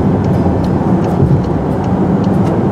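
A 2018 Volkswagen Atlas accelerates on the interstate, with a loud, steady low road and engine rumble heard from inside the cabin, a few faint ticks sitting over the continuous drone.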